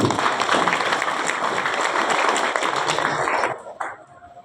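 An audience of parents at a school graduation farewell event in Wonosobo breaks into dense, sustained applause, loud and close for about three seconds before thinning into a few scattered claps and fading out.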